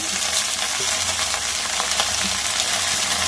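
Spinach sizzles in a hot pan with ginger and garlic, a steady loud crackling fry with faint stirring clinks and no voices.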